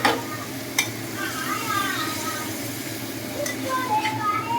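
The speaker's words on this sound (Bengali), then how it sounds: "মালটাকে ভালো করে ফ্রাই করা হবে, কচি করে মালটাকে ভালো করে ফ্রাই করা হবে" Mutton frying in a pan for a dak bungalow curry, a steady sizzle with stirring scrapes and a few sharp clinks, close and continuous, with faint talk in the background.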